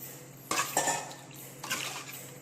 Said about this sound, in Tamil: நான் ஒரு ஸ்பூன் உப்பு போடுறேன்